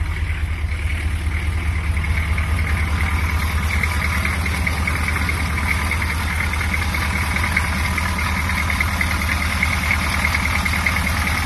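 An M1028A2 CUCV military pickup engine running at a steady, loud idle with a constant low rumble and slight knock throughout, close by with no speech.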